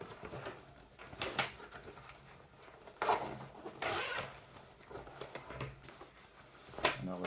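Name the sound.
zipper on a bow case being opened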